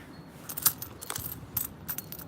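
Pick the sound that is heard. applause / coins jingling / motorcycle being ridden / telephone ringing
coins jingling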